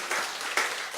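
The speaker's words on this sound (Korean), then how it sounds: "우리 다시 한번 박수로 환영하겠습니다" Church congregation clapping to welcome the choir, a brief burst of dense applause in a hall with a couple of louder swells.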